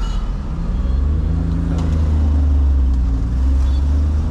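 Car engine rumbling steadily and close during a driving lesson, the revs rising as the driver pulls away and shifts from first into second gear, with no talk over it.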